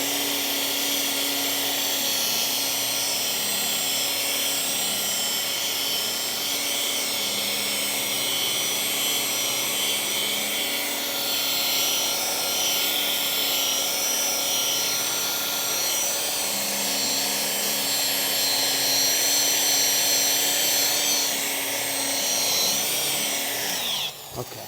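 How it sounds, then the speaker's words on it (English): A machine polisher runs steadily on soft black car paint as deep scratches are corrected, with a continuous high, even whine and no voices over it. "this has a curve to it, so I'm going to have to tilt the polisher."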